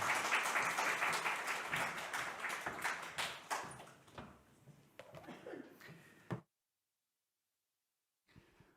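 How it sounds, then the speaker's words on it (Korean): A church congregation at a Korean-language Sunday service breaks into applause that is loud at first, then thins to scattered claps and fades to silence, with a faint sound returning at the end. "박수로 환영해 주시기 바랍니다"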